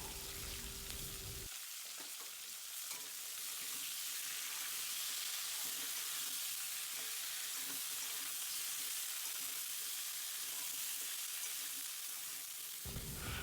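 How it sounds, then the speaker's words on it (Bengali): Washed cauliflower florets frying in hot oil in a pan until reddish, a steady, dense sizzle that runs throughout at moderate loudness, close by, with no talking. "ধুয়ে এবার লাল লাল করে ভেজে নেব"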